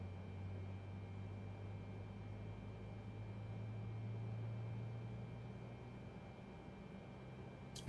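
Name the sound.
Boeing 747-8i jet engine spooling up at start, flight simulator game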